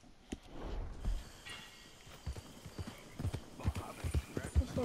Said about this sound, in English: Oh my god, I got on the guy's horse.